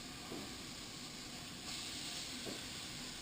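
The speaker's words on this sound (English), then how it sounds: "You got to hear the sizzle." Apples tossed into boiling caramel for a gluten-free caramelized apple pie give a steady, moderately loud hissing sizzle that runs unbroken from start to end, swelling a little in the second half, with no voices.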